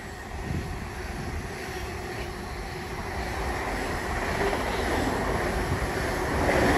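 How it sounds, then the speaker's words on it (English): A DRS Class 66 diesel freight locomotive hauling a fully loaded train from Tilbury to Daventry through Watford Junction on the West Coast Main Line, a steady heavy rumble and roar that grows louder toward the end, with no voices. "our first freight of the day, speeding along, will be a DRS66 going from Tilbury Freightliner Terminal to Daventry"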